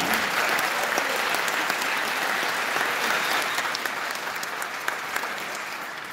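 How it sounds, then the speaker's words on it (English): A concert band program audience claps in sustained, dense applause, a broad even roar of many hands that carries on for several seconds and slowly tapers, with no voices over it. "Let's give him a round of applause."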